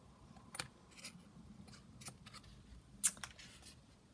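Scissors snipping paper while making a paper mason jar craft: a few crisp, separate cuts spaced about half a second apart, with one sharper, louder snip near the end, close and quiet against a faint room background.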